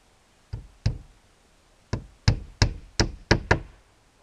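Tacks are hammered into a shed door: sharp, close knocking blows, two at first, then a quick run of six evenly spaced strikes, with no talk.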